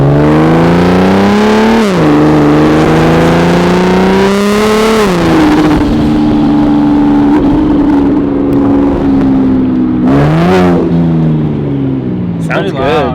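A single turbo BMW 335i with a hood exit exhaust revs hard and repeatedly, each loud rising blip falling back to a rough, droning idle up close, with people talking over it.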